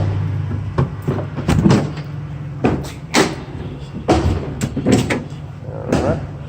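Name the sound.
cargo van rear doors opening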